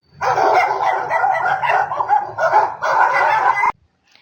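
Several dogs barking excitedly in a chase after a jackal, a dense overlapping burst of yaps and barks close and loud for about three and a half seconds, then cutting off abruptly.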